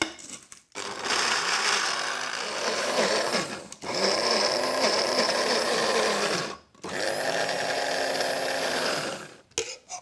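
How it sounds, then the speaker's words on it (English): A kitchen blender blitzes roughly chopped coriander in three loud whirring bursts separated by short pauses, close and alone with no speech. "So just roughly chop that up and pop that into your blender. So I'm going to give that a whiz."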